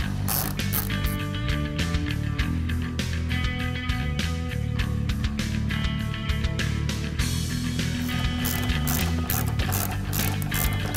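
A ratchet works loose the top nuts on a strut from a 2015-2020 Ford Mustang during a Ridetech coil-over suspension install, giving a steady run of dense, rapid clicking that carries on close and loud for the whole stretch with no talk.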